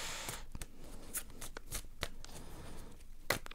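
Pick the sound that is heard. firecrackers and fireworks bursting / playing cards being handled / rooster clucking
playing cards being handled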